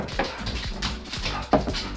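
A dog makes several short whimpers and yips close by, spaced irregularly with a sharper burst near the end, and no talking over it.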